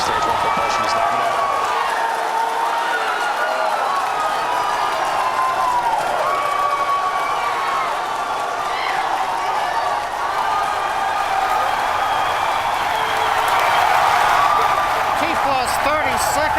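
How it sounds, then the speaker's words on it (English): A crowd at a Falcon Heavy test flight launch cheers and claps in a dense, sustained roar, with a commentator's voice running over the noise. "if you can hear me over the cheering"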